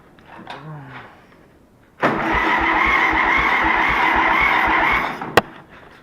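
After a brief voice, a Case VAC tractor engine with a freshly rebuilt Marvel carburetor catches and runs loud and rough for about three seconds, then cuts off with a sharp click.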